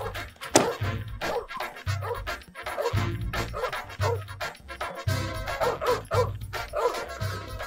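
A dog barks and yelps repeatedly at close range in loud, uneven bursts with short whimpering yips between them. No one speaks.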